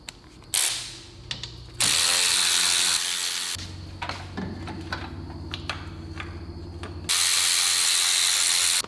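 A ratchet spins out three 8 mm bolts holding a windshield wiper motor. It makes bursts of rapid clicking whir, close and loud, with short pauses and tool knocks between runs.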